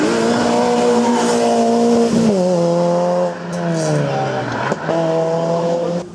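A Peugeot 106 race car in a Race Rent Cup EVO 2 event screams past up close, its engine note climbing and then dropping sharply through gear changes, with a brief tire squeal.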